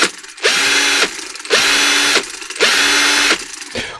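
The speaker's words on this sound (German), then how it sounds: "Dazu muss man hier einfach nur diese vier Schrauben lösen." A power screwdriver backs out screws from a lithium battery pack casing, three loud whirring bursts of about half a second each separated by short pauses, close up.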